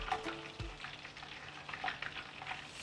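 Chicken pieces sizzle and crackle steadily in medium-hot oil, with small pops and a light scrape of stirring close by.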